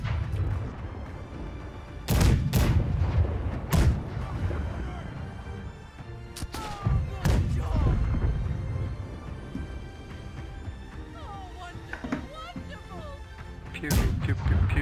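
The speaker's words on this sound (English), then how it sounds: "Keep firing right side." Ship cannons fire in the pirate naval game Blackwake, several loud booms in bursts across the stretch with ongoing battle noise while players talk over it.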